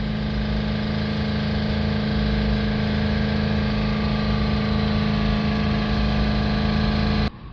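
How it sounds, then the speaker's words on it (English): Subaru Forester 2.0 diesel engine idles steadily with a buzzing exhaust heat shield rattle, a constant droning hum close up that cuts off abruptly at the end, with no talk. "I can hear the heat shield rattle a bit"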